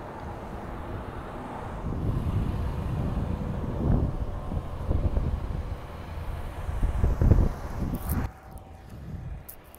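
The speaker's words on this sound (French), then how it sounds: "C'est vrai que c'est super venteux" Strong wind buffets the microphone outdoors at the Arizona–New Mexico border, a continuous low rumbling roar with gusty surges that swell and drop, no one speaking.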